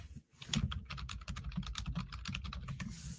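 Rapid typing on a computer keyboard, a dense run of quick clicking keystrokes lasting a few seconds with a brief pause near the start, close and clear with no voices.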